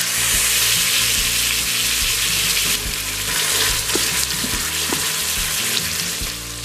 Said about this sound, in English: Brown the meat.